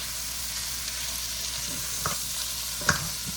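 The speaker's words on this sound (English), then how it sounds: "And we're just going to toss these and toss them. And get as much of that goodie off the bottom of the pan." Food tossed and stirred in a pan for jerk chicken and seasoned rice, a steady soft sizzle of frying with a few louder scraping knocks of a utensil against the pan bottom, close by and without talk.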